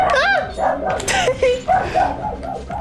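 A dog barks and whimpers in the background, with short yips and whines coming in a broken rhythm under constant close talking.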